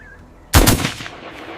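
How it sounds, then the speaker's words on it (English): A single sharp rifle shot cracks out near an apple orchard at the foot of a mountain in rural South Africa, then rolls away in a fading echo across the slope, with no voices. "The sharp sound echoed across the mountainside."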